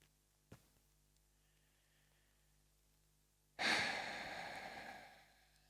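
A single deep, slow exhale during a relaxation exercise rises suddenly out of near silence and fades over about two seconds, preceded by a faint click.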